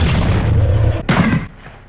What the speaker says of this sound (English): The guns are loud and booming, making them feel powerful. Same goes for explosions.